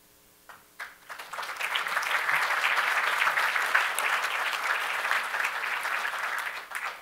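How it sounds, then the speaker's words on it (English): An audience at an awards ceremony of the George C. Marshall Foundation breaks into applause, starting with a few claps and swelling into sustained, even clapping from a large crowd before easing near the end. "Please join me in another round of applause"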